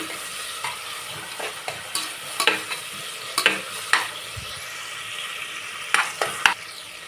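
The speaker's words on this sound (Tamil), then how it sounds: "வெங்காயம் நல்லா வதங்கட்டும்" Onions sauté in hot oil with a soft, continuous sizzle, punctuated by scattered metallic clinks and scrapes of a spoon stirring the pan, close and moderately quiet.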